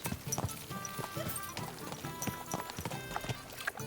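A horse's hooves clip-clop at a walk in Kingdom Come Deliverance II, soft and uneven against faint background ambience with occasional small noises.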